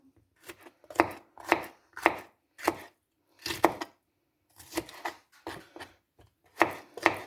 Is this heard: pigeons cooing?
no